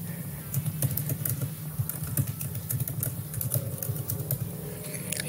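Steady, rapid typing on a computer keyboard, close and clear, with irregular clusters of key clicks over a low background hum and no talking.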